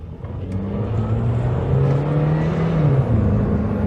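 Daihatsu YRV Turbo hatchback accelerating downhill, its engine droning steadily and climbing in pitch, then briefly dipping at a gear change before the turbo picks up again; close and loud, with no talking.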